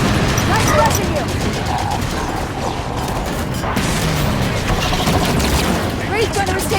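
Dense gunfire and explosions in Halo 5: Guardians during a battle around a Wraith tank, with continuous rapid shots and crashes and game voices calling out over the combat.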